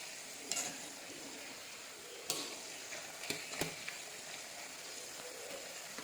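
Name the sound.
stirring banana chips frying in oil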